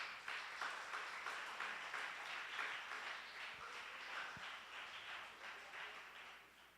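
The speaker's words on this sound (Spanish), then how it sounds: "Dele un aplauso fuerte al Señor." A church congregation applauds the Lord at a Spanish-language service, a steady wash of many hands clapping at moderate, fairly distant level, with faint pulsing and no clear speech over it.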